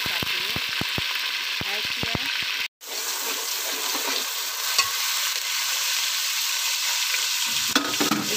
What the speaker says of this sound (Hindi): प्याज को फ्राई कर रही हूँ।